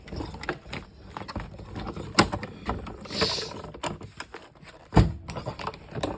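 A die cutting machine runs crepe paper through with a 2.5 inch circle die, giving a grinding, ratcheting mechanical rumble with a few sharper clunks, close and moderate in level.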